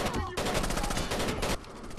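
Sustained automatic gunfire in Rainbow Six Vegas 2, a loud rapid burst of shots lasting over a second, with quieter game noise before and after.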